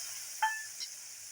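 Onion gravy fries in a hot pan with mustard, cumin, asafoetida and dry spices, a soft steady sizzle broken by a brief scrape of stirring, close but faint.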